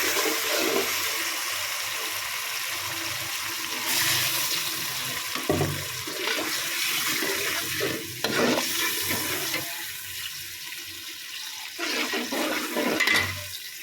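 Onions fry in a wok with a steady hiss and sizzle, broken by scraping stirs and shifting bursts of crackle, close and without talk.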